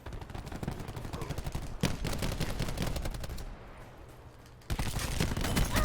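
Rapid automatic gunfire from the Black Ops 4 shooter on the Nuketown map, loud bursts of clattering shots that drop out briefly in the middle and then resume, with no talk over them.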